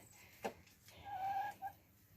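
A chicken gives a short, soft clucking call after a brief scratchy sound of digging through wood chips, fairly quiet and nearby.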